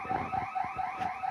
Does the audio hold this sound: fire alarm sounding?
yes